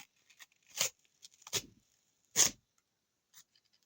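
A small collectible packet is torn open in a few short, crisp ripping bursts separated by quiet pauses, close up and without talk.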